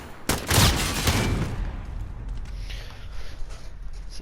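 Burst fire from an AN-94 assault rifle in Call of Duty Modern Warfare, a loud close gunfire blast early on that trails into a decaying rumble with faint scattered shots afterward.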